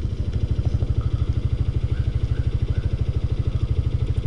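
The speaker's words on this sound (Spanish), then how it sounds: "Vamos arriba de una moto." A motorcycle engine runs with a steady, rapid low throb and clatter, close and fairly loud, as the bike idles or rolls along at low speed, with no talk over it.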